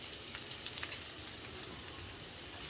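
Finely chopped onions, about a cupful, fry in oil tinted with chili flakes for a paneer starter, producing a soft, steady sizzle with a brief rattle of stirring near the start, quiet and without voices.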